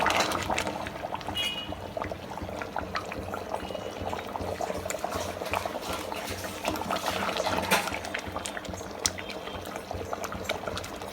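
A lamb head curry bubbles at a steady boil in the pot, giving a dense, continuous churning, gurgling wash that stays loud and close throughout with no speech over it.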